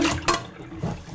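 Tap water runs as chicken liver is washed, a brief close splashing flow with a short gush near the start.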